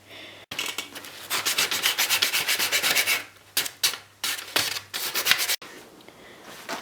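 Sandpaper rubbed around a wooden log being shaped into a slingshot, a close, steady run of rapid scratchy strokes that breaks into a few separate harsher passes before fading, with no talk.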